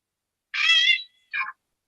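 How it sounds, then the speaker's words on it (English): A cat meowing twice, a longer drawn-out meow followed by a short higher one, close and clear against silence. "It does sound like a cat."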